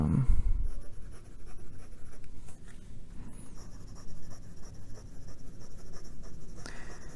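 A Parker Jotter fountain pen with a cartridge and a rough, slightly skipping nib scratches across paper in close, continuous strokes, a gritty rasp with short pauses between words.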